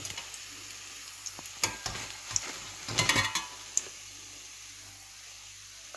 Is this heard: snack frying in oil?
yes